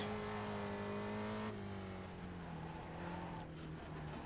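Spec Racer Ford engine in iRacing drops through a double downshift, the steady high-revving tone stepping down with quick throttle blips as the revs fall, heard alone without talking.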